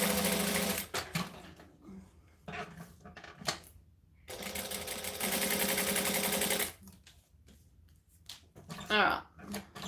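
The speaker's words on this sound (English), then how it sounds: "So I'm just stitching 1/8 of an inch from the outside edge." Sewing machine stitching close to the fabric edge, running in several loud bursts of rapid whirring separated by pauses, with a voice talking between the runs.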